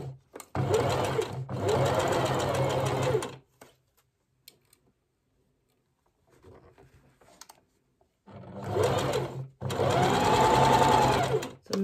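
A sewing machine stitches fabric in two loud, close bursts of rapid whirring, separated by a quiet pause with faint handling noises.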